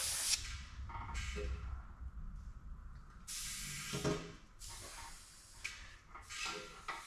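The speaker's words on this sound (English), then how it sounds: "I'm just trying to set my air pressure right now for what I'm doing." An airbrush loaded with white paint releases bursts of hissing air while its pressure is being set, with several spray bursts in a row amid light clatter at close range.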